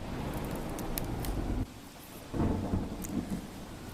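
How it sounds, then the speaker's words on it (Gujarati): Heavy early-morning rain pours down during an unseasonal storm in Gadhada, Botad, with a dense steady hiss, gusting wind, and a deep rumble of thunder swelling midway. "વહેલી સવારથી ભારે પવન સાથે વરસાદ વરસ્યો"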